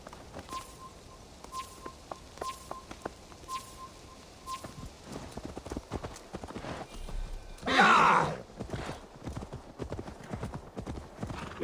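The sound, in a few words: horse hooves and whinny in Assassin's Creed Valhalla video game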